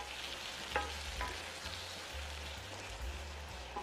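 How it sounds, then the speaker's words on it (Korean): Green onion and garlic stir-frying in an oiled pan, a faint steady crackling sizzle with an occasional light clink of a utensil, fairly quiet and without speech. "기름 두른 팬에 대파와 마늘을 볶아주고"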